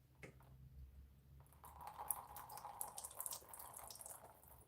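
Water sprays out of a vacuum cleaner's spray trigger, a faint hiss that starts after a brief click and continues with small splashing and dripping textures, heard fairly quietly with no speech.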